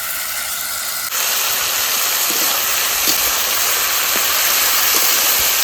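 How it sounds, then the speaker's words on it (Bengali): Water poured into a hot pan of taro stolons bursts into a loud, sudden hiss that keeps up as a steady, close sizzle with faint ticks and pops inside it. "কচুরলতিতে জল দিয়ে দিছি"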